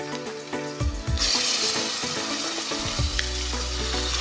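Sliced meat stirred and sizzling in a pot for batchoy, with white onion already in, steady frying hiss under clanking utensil scrapes and some background music.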